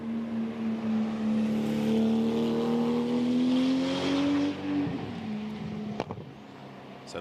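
A Porsche GT2 race car, number 5 of Aurelius Rustica, runs in free practice at Spa, its engine a loud sustained drone rising in pitch, then dropping sharply as it passes and recedes.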